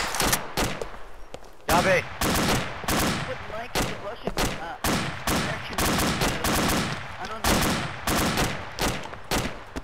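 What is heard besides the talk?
gunfire in military video game (Arma, Phantactical)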